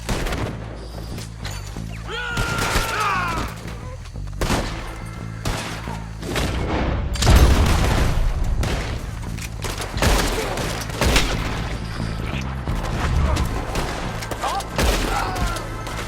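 Heavy gunfire erupts in the video game Red Dead Redemption 2, a chaotic fusillade of overlapping shots, booms and thuds across a gunfight, loud and close with brief shouted voices scattered through it.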